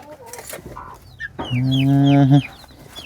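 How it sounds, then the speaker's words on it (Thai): Chickens cluck nearby in short scattered calls, then one bird lets out a loud, drawn-out squawking cackle that holds for about a second before breaking off. "เสียงเป็ดเสียงไก่เสียงกา"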